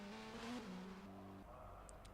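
GP3 race car engine in the rFactor 2 racing sim at the Macau circuit, a sustained whining tone that drops in pitch partway as the car lifts, heard faintly alone with no talk.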